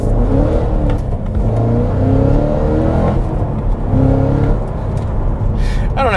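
A 2022 Cadillac CT5-V Blackwing revs hard in tour mode with its exhaust in the quietest setting, a loud, sustained engine roar that rises and falls across several pulls, close to the listener.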